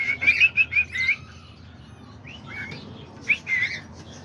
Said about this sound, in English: That's my whistling one. He likes to whistle.